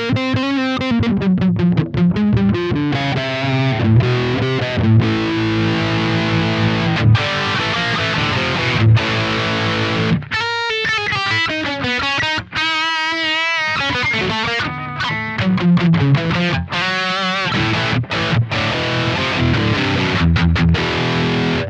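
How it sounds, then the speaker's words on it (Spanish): Strandberg Boden Essential electric guitar played through a distorted amp channel, loud and continuous with fast lead runs, bends and chugging riffs, layered with effects and no talking. "Los micrófonos no sonaban bien en canal limpio, suenan bien en canal distorsionado, están bárbaros."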